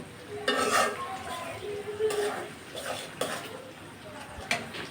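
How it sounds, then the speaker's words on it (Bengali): Spice paste with dried fish being sautéed in a pan for a taro-stolon curry, with close scraping stirs and a light sizzle in uneven bursts, no talking. "এখন আমি ভালো মতো মশলাটাকে কষিয়ে নেব।"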